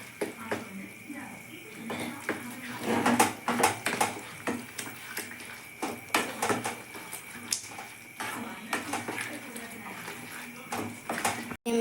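Soy and chilli sauce stirred in a pan with a spoon or spatula, giving a run of close, irregular scraping and clinking strokes with faint liquid movement, loud and steady for the whole stretch.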